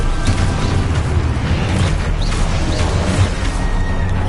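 Spell blasts and booming magical impacts from Confringo casting in Hogwarts Legacy, a dense continuous barrage of loud bursts and rumbling with no pause.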